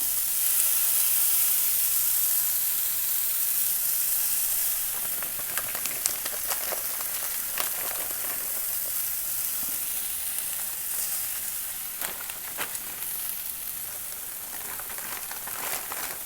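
Chicken, shrimp and cheese sizzle in a cast iron skillet, a dense rain-like crackle that starts loud and settles slightly, with scattered sharper pops and spits close by and no speech.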